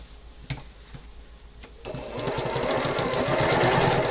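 A sewing machine stitches quilt seams across a nested intersection, starting after a few soft clicks and handling sounds and then running as a steady, close mechanical whir until the end.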